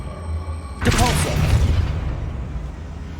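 A single Depulso force spell cast in Hogwarts Legacy lands as a sudden deep boom with a rushing burst, followed by a fading rumble, close and prominent over a low background hum.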